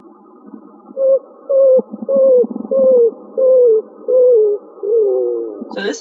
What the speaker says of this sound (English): So this is called the coo call